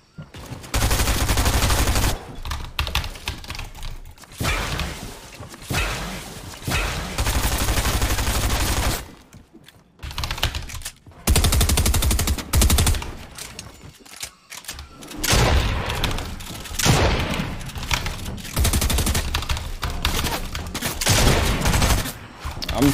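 Heavy rapid gunfire in a Fortnite solo arena match, with loud bursts and volleys that come in repeated waves and stop briefly between them, under occasional faint talking.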